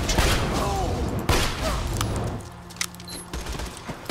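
Gunfire rattles in Borderlands 2: a dense volley of rapid shots with impacts and thuds gives way to scattered individual cracks and clunks.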